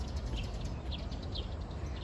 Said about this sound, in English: the sound of the birds is very